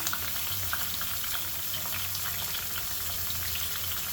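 Stuffed bitter gourd masala curry sizzles in a pan with green chillies, curry leaves and salt, a dense, even frying crackle with faint stirring, close by and uninterrupted.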